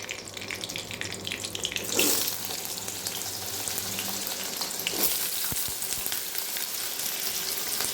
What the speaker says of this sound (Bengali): এবার আমি আলুগুলো হালকা ভেজে নেব